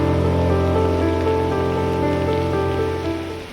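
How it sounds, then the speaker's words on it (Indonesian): Gentle light rain falling outside at night, a steady soft patter that continues evenly throughout and fades slightly at the end, with no voices. "Di luar, hujan turun tenang, tidak deras, hanya rintik-rintik lembut"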